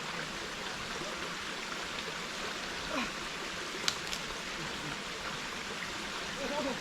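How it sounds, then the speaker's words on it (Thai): A tall forest waterfall gives a steady broad rushing of water in the background, with footsteps and rustling from hikers nearby. "อันนี้น้ำตกสูงนะเนี่ย"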